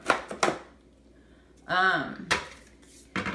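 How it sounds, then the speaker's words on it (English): A Bosch Universal stand mixer works cookie dough in short pulses: several quick, separate bursts of churning and clatter, one with a whining motor tone that rises and falls, and quiet gaps between them. "So they have this cool pulse feature that you can also do if you don't want to like over mix your dough."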